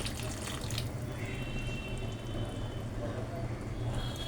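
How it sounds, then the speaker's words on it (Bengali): Water is poured into a cooking pan while salt goes in for a Bengali sarputi fish dish, a steady running, splashing wash that continues throughout at moderate level against a low hum. "একটু জল দিচ্ছি"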